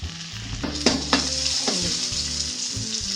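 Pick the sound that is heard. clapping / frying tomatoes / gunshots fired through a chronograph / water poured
frying tomatoes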